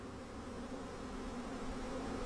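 A dense swarm of bees drones continuously at close range, a thick steady buzzing hum with no pauses and no voices over it.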